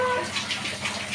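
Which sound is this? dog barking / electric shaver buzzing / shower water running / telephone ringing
shower water running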